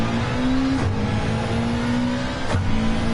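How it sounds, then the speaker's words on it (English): A car engine in Gran Turismo 7 revs hard and steadily, with two quick gear shifts breaking the drone about two seconds apart, loud and close with no talk. "All I hear is the engine."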